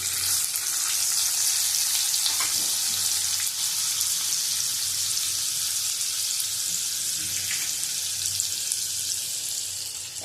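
A bay leaf fries in butter in a pan, giving a steady, bright sizzle that holds evenly for about ten seconds, close and continuous, with a few faint clinks.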